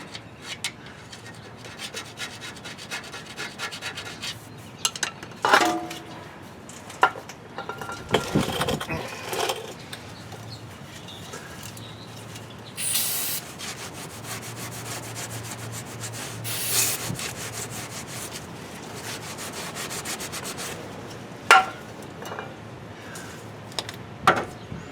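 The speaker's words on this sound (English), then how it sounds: "I have to get my gasket scraper on this anyway, before I put the cover gasket back on" A gasket scraper scraping old gasket material off the rear axle cover of a 2008 Chevy Suburban, giving irregular rasping strokes with scattered louder scrapes and knocks, close and fairly quiet, with no talk.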